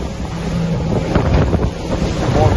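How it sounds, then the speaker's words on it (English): A Sea-Doo personal watercraft runs over rough open ocean waves in the Bahamas, a loud, close roar of engine, rushing water and wind buffeting the microphone without pause. "More rough waves."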